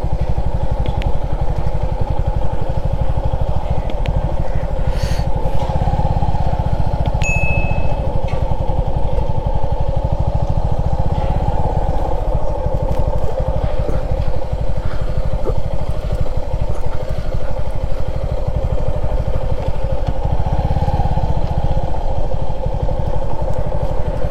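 A motorcycle engine runs steadily and loudly close by for the full length, a constant low rumbling drone with a faint clatter.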